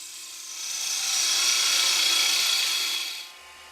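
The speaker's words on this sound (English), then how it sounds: "Remember to travel the tool slowly on that last cut to get your best surface." A woodturning tool makes a slow finishing cut on the base of a goblet spinning on a lathe, a steady, close hiss that swells in, holds for a few seconds, then cuts off.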